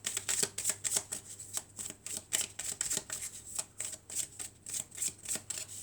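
A deck of oracle cards is shuffled by hand in rapid riffling bursts, a close, rhythmic series of papery flutters repeating roughly every third of a second.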